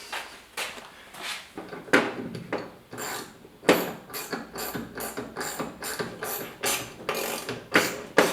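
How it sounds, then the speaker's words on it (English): Small hand ratchet tightening the door handle bolts on a 1971 Chevy C20 truck, sounding as a close series of sharp clicking pawl bursts and quick ratcheting strokes, repeated steadily, with no talk. "As we get a little ratchet,"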